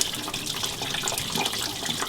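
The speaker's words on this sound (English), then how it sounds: "So this one catches the main drips, and this one catches the ones that runs down the header." Engine coolant trickles from a Corvette's headers into catch containers nearby, making a continuous splashing, running-water sound with no voices.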